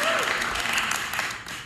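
Applause from a crowd during a streamer's live stream interview with a politician, a short burst of clapping that fades over under two seconds, with voices talking over it.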